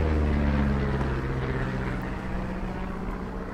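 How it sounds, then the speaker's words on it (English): A propeller airplane in the video game Firewatch drones overhead as a steady, loud low rumble with layered engine hum, holding throughout and easing slightly toward the end. "You see that plane?"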